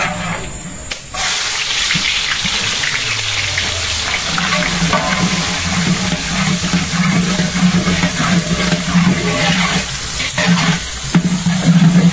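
Chopped onions hit hot oil already seasoned with cumin seeds and fry in a pan during a village home cooking session, giving a loud, steady, close sizzle that runs without pause throughout.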